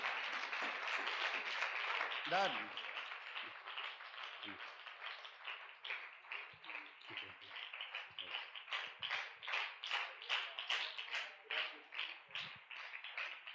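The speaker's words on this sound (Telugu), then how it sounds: "ఇమాన్యుయల్ రాజానికి బిగ్ క్లాప్స్ కొడదాం." Church congregation clapping for a team leader, a broad dense wash of applause that settles into a steady rhythmic beat toward the end, with a voice speaking briefly over it.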